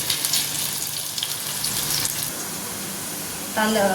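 Food frying in a pan for veg biryani, a steady close sizzle throughout with a brief burst of running water near the end.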